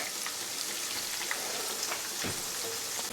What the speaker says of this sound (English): We got some shake and bake chicken strips going right here.